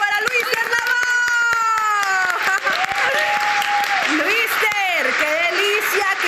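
A studio audience claps for a guest singer on a television show, steady applause under a woman's excited, sung-out introduction.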